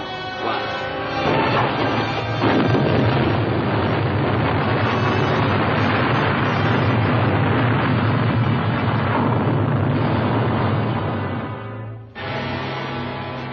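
Sustained rumbling explosions from a salvo fired at sea, a long dense roar that holds steady and loud for about ten seconds before cutting off, then a low continuing rumble.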